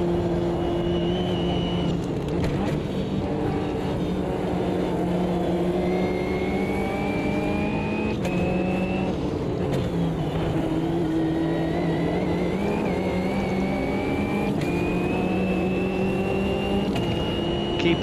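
A race car's engine revs steadily through the gears around the Nordschleife in Automobilista 2. A loud, continuous mechanical drone climbs in pitch, drops at each shift, then winds up again.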